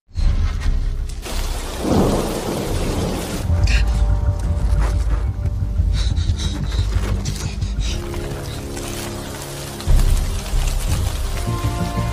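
Heavy rain pours steadily and loudly throughout, a dense continuous hiss with deep rumbling underneath and no pauses.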